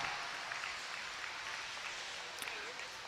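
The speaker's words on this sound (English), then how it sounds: "let's give them a round of applause" Audience clapping fills an arena goat showmanship ring at a junior market goat and wether dam show, a steady wash of applause close and even throughout, with a voice talking over it.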